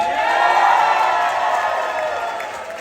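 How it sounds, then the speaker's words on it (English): Wedding guests applaud, cheer and whoop for the boys' entrance at a reception, a loud, dense wash of crowd noise close by that holds strong and then eases slightly. "We're going to judge based on the loudness of the round of applause."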